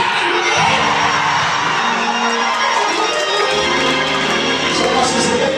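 A church congregation screams, whoops and cheers loudly and continuously during a sermon, a dense crowd roar of many voices with yells rising over it.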